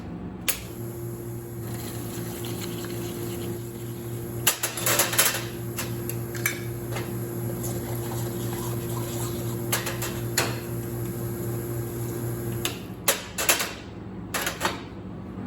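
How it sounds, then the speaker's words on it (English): Palo tool scrubbing an espresso machine's dispersion screen under running water, a rapid scratchy brushing in bursts over a steady hiss of water and machine hum, close up with no talking. "using your palo tool to scrub one side of the dispersion screen and then the other"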